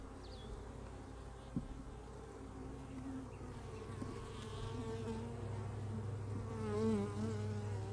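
Steady honeybee buzzing at an open weak hive during a frame inspection, a continuous close drone with individual bees passing near, swelling slightly louder toward the end.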